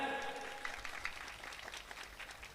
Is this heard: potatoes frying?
no